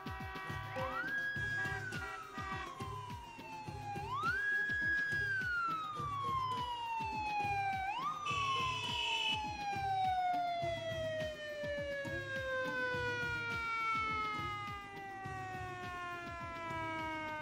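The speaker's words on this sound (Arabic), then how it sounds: "لك شافك الشرطة نبيل هروب." A police car siren wails in repeating rising-and-falling sweeps, loud and close, over a steady rhythmic engine or music beat.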